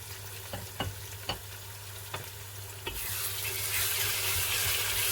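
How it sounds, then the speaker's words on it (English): Crayfish and pepper fry in a pot for Nigerian vegetable soup while a spoon stirs, with several sharp scraping knocks against the pot, then a louder, continuous sizzle swelling up in the second half. "You keep stirring so that it will not get burnt."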